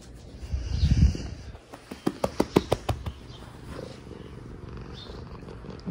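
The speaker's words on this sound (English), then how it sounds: "Can hear her purring." Soft rumbling purr from a cat up close, followed by a quick series of sharp clicking or tapping sounds, then quieter low purring.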